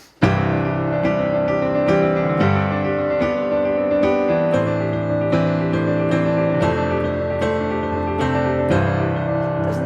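Piano accompaniment chords played in a steady, rapid sixteenth-note pulse, shifting harmony every so often, full and loud with no voices.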